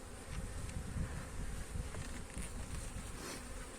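A dense, steady buzzing of many Muğla honey bees close by at a hive, a continuous low drone with no voices.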